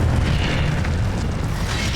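A fire spell blast in the video game Hogwarts Legacy, a loud, dense booming roar of flame that fills the whole moment without a break, close and heavy.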